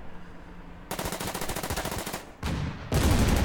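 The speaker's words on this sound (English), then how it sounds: "I'm going to go ahead and attack with my Panzer III" Rapid machine-gun bursts from a Panzer III tank attacking in the WW2 strategy game Order of Battle: a quiet lead-in, then a loud, steady stream of automatic fire that breaks off briefly and resumes even harder, with no voices.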